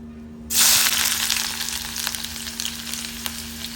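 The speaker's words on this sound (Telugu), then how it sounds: "ఆయిల్ కూడా హీట్ అయింది కదా ఇప్పుడు ఆనియన్స్ వేసుకుందాం" Onions hit hot oil with an abrupt, loud sizzle that starts suddenly, then settles into a steady, close crackling fry over a faint low hum.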